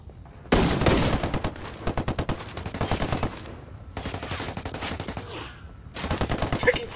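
Dense bursts of automatic gunfire in the Ghost Recon Wildlands shooter game, loud and close, rattling almost continuously with brief gaps between volleys.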